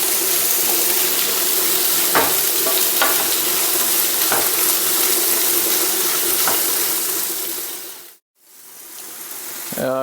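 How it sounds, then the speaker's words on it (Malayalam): Crushed shallots sautéing in a pan for a chicken pepper dry fry, a continuous loud sizzle with occasional scrapes of a stirring spoon, breaking off briefly near the end before resuming. "ചെറിയ ഉള്ളിനെ നമുക്ക് നന്നായിട്ട് വഴറ്റി കൊടുക്കാം കേട്ടോ"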